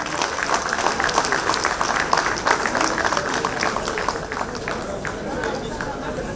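An audience claps for a dance troupe at a stage celebration of a poet's 88th birthday, giving a dense, steady applause lasting several seconds, mixed with crowd murmur.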